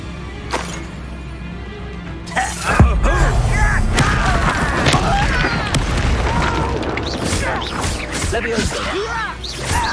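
A Confringo spell blast from Hogwarts Legacy lands as a sudden heavy boom, followed by sustained crackling and rumbling game effects with voices speaking over them.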